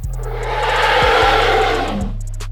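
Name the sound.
Pachycephalosaurus roar sound effect from video game Dinosaur Simulator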